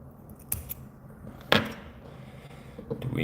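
Scissors trimming deer hair at a fly-tying bench, a few quiet snips close by with a sharper cut in the middle, over low room noise and no talking.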